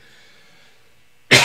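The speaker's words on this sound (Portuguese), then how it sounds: "desculpa aí a tosse" A single sharp, loud cough bursts out at the very end, after a stretch of faint, steady background tone, during a Boss DD500 digital delay guitar pedal demonstration.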